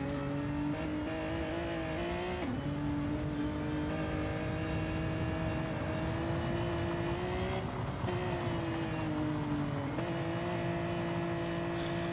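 A race car laps a dirt racetrack, heard from inside the car as a loud, continuous engine drone whose pitch rises and dips with shifts and corners, with no talk over it.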